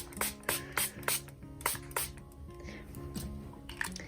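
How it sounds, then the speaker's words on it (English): A spray bottle pumps out repeated short bursts of fine water mist onto paper, quick hissing pulses in a loose rhythm, close and fairly quiet. "Nice fine mist."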